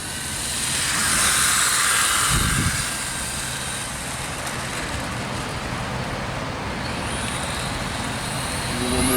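A Tamiya TT02D Nissan Skyline RC car on drift tyres whirs and hisses in steady motor and tyre noise, with a brief louder rush as it spins out.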